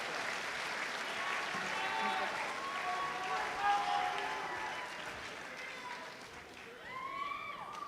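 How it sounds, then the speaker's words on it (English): Sustained audience applause fills a school talent show venue, dense and steady before easing slightly and swelling again near the end, with a few cheers and whistles over the crowd noise. "Give it a round of applause"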